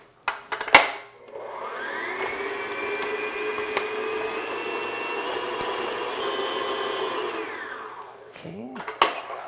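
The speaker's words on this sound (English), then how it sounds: "I'm just going to beat the butter just on medium speed, just until it's nice and smooth." An electric mixer beats room-temperature butter on medium speed for peanut blossom cookie dough, a steady loud whirring drone running about seven seconds between knocks of the bowl at start and end.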